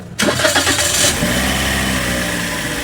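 A Toyota Vios Dual VVT-i engine cranks briefly, catches, and settles into a steady, fairly loud idle close by.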